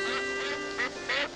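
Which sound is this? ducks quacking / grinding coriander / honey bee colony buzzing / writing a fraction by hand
ducks quacking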